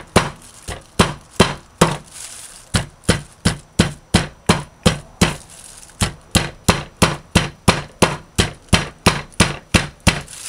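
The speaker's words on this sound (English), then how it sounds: "Kind of break it up with the hammer." A hammer breaks up conch meat for a butter bean curry stew, giving a long run of sharp, evenly spaced thumps, close and loud, with no talking.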